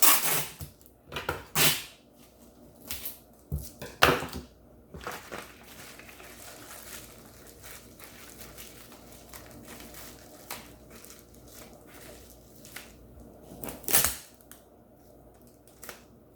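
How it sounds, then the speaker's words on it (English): Packing tape is pulled and pressed to seal a shipping package, giving a few sharp ripping bursts at the start and again later, separated by quieter handling noise. "So I can just tape this up."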